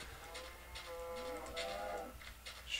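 A cow in a survival video game gives a drawn-out moo with a rising and falling tone, fairly quiet, with soft game sounds around it.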